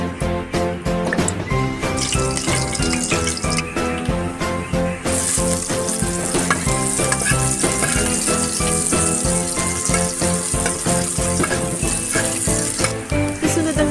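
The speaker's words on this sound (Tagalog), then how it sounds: "Igisa ang bawang, sibuyas at luya." Garlic, onion and ginger sautéing in a pan, a soft steady sizzle beneath louder background music, no speech.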